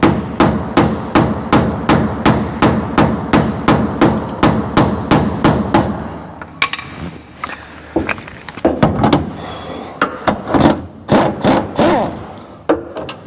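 Steel scraper driven repeatedly up into a car subframe to loosen it, a rapid regular series of sharp metallic strikes, then a pause and a few more scattered heavy blows, close and loud.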